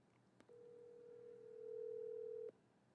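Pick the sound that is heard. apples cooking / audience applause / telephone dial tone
telephone dial tone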